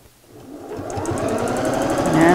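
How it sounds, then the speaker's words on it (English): A sewing machine runs close by, top stitching fabric with a longer stitch, its rapid mechanical chatter building from quiet to a steady, brisk whir over a couple of seconds. "So I can use a longer stitch on my sewing machine."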